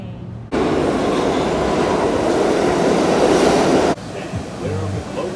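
Subway train roaring into a New York station, a loud sustained rumble for about three and a half seconds before cutting off to quieter platform ambience with faint voices.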